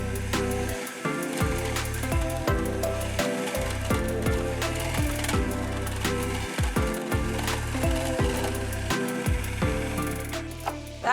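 A small food processor finely slicing Brussels sprouts, close and loud, with a steady motor whir broken by rapid irregular chopping clatter and thuds as the sprouts hit the blade, lasting about eleven seconds.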